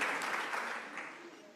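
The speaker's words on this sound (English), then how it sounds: "one more big round of applause for the award-winning CEO, Dr. Feleng Yende." An audience at an award ceremony gives a round of applause, a brief burst of many hands clapping that starts full and slowly tapers off, moderately loud in a hall, with faint voices underneath.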